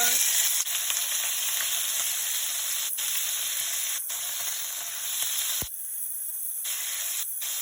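Pork sizzles loudly in hot cooking oil, a bright continuous hiss with crackling up close; the sizzle drops sharply for a moment near the end, then resumes.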